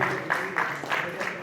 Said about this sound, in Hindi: एक बार जोरदार आप सभी की तालियां।